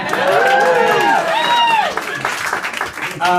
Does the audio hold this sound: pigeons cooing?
no